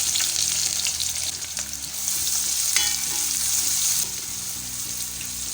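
Sliced onions hit hot oil with browned fenugreek seeds in a pan, giving a steady bright sizzle with occasional stirring scrapes, close and continuous, no voices.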